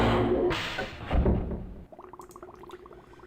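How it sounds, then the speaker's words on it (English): Water bubbling in the Myst game, made by blowing bubbles through a straw: a loud, dense gurgling wash for nearly two seconds, then a quieter run of separate bubbly pops continuing to the end. "So this bubbling sound you're hearing"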